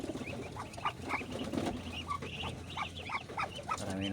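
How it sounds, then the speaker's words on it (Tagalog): A crowd of duckling chicks peeping steadily, many small high chirps overlapping in a soft continuous chorus with low background noise. "Parami po talaga yung alaga po nating bebe."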